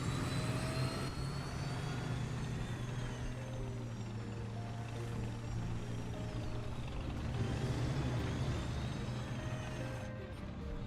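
Helicopter in a video game match: a steady, loud low rotor-and-engine drone with whining turbine tones runs unbroken for the whole stretch, close and dominant.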